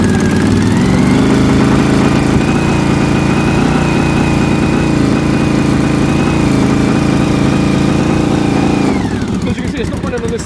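Rough-running Honda VFR750 or Suzuki GSX750F motorcycle engine with a cylinder misfiring, idling loud and close with a steady uneven drone for about nine seconds before the tone drops and shifts near the end.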